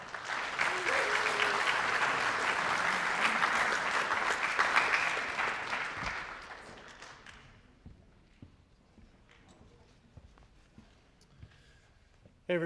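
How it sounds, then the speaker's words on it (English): Audience applause at a youth soccer club senior night fills the room loudly for about six seconds, then thins and fades into scattered claps, shuffling and faint room noise. "Please give a round of applause and welcoming our Executive Director of"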